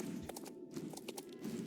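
Hooves clip-clop as a horse is ridden in the video game Star Stable Online, a faint, quick rhythmic patter of hoofbeats.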